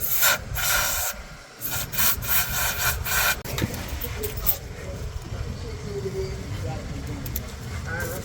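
A rusty earth bolt on a 1979 Cadillac Seville being cleaned, harsh rhythmic scraping and rubbing strokes up close, busier at first and then steadier, with someone talking over it.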